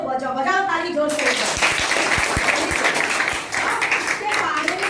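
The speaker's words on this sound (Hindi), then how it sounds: "तो गर्व की बात है तो बजाओ ताली जोर से" An audience claps loudly in celebration at a school event. The burst of applause starts abruptly after a voice and continues thickly, with a few sharp individual claps standing out as it fades.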